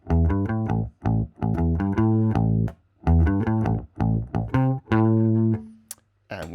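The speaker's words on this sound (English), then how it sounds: "The clean sounds like this." A clean Aria Pro II bass guitar plays a short, punchy riff of plucked notes with brief gaps, up close and alone.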